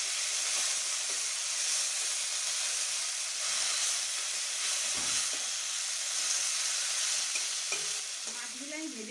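Small fish frying in hot oil in a pan (kadai), a steady, loud, hissing sizzle that continues unbroken, with a faint clink near the end.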